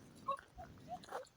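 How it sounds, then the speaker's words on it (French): A dog gives a few short, soft whimpering yips in a quiet village garden, the brief tonal cries spaced apart across a moment with low background hush. "C'est mon chien"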